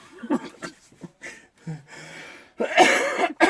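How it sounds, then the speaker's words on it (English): A few harsh coughs and throat clearing bursts, close and loud, separated by short pauses and breaths. "You get me laughing, I'm gonna start coughing."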